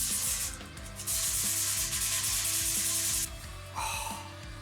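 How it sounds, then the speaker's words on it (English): An oiled Ibanez S320 guitar body is hand-sanded, giving close, steady rasping strokes in long sweeps, with a pause and a final shorter pass and no speech. "sand it off again."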